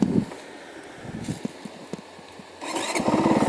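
A Honda CRF450L motorcycle engine cranks and fires back to life after a stall, with a few sputtering pulses, then a steady, close engine rumble building toward the end.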